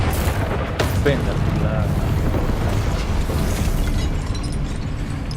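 Spells such as Incendio, Expelliarmus and Glacius are cast in Hogwarts Legacy, producing a steady wash of booming, crackling magical blasts, with a voice speaking briefly over them.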